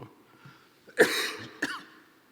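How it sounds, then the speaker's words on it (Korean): Two harsh coughs close to the microphone, the first louder and longer, the second shorter, in an otherwise quiet room. "자꾸 기침해서 죄송해요"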